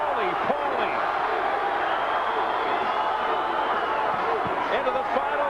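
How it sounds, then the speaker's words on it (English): A boxing crowd at the 1999 Paulie Ayala vs Johnny Tapia WBA bantamweight title fight roars steadily as rival sections chant the fighters' names, a dense, loud wash of voices and cheering with no gaps. "The crowd chanting, Johnny, Johnny. Another part of the crowd chanting, Paulie, Paulie."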